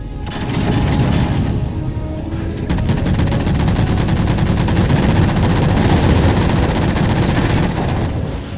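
In Halo 4, rapid automatic gunfire pours out in a dense, unbroken stream while shooting down jammers, loud and close for the whole stretch.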